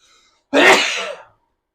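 A single loud, close sneeze bursts out suddenly after near silence and trails off within a second.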